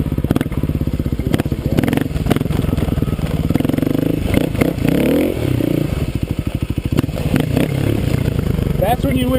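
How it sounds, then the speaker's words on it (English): A dual-sport motorcycle grinds slowly over a rock pile, its engine revving and lugging close by with clatter and scraping from the rocks, while a rider talks over it. "Ooh, look at this rock pile. Maybe I'll like ride over it."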